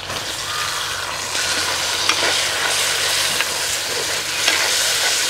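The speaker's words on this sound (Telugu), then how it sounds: "ఈ టమాటాలు బాగా మెత్తబడే వరకు వేయించుకోవాలండి." Chopped tomatoes with onions and green chilies fry loudly in a pan, a dense, steady sizzling hiss with occasional stirring scrapes throughout.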